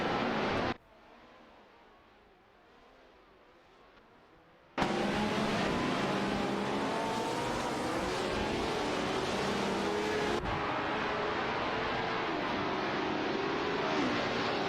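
Race car engines, including a Honda RA 300, scream around the track in an AI racing video game: loud, dense, continuous engine whine that cuts sharply to near quiet, then bursts back in and shifts tone again.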